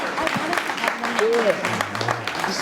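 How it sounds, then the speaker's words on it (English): Scattered applause from a small group at an HBCU gathering after a campus tour, uneven and fairly close, with people talking over and through the clapping. "Applause to Jasmine here for running the tour."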